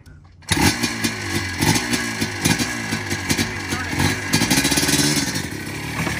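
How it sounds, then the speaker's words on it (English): A Yamaha Blaster ATV engine revs hard and close, a loud, buzzy two-stroke whine that holds steady with rhythmic throttle pulses for several seconds after a quiet start. "That Blaster sound good."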